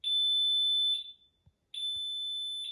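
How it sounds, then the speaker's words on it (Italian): Repeated high-pitched electronic warning beeps from a Miele clothes dryer signalling a full condensate container, two long loud tones separated by a short pause, with faint clicks in between. "sentirete anche un avviso acustico sonoro che andrà a segnalarvi questa cosa"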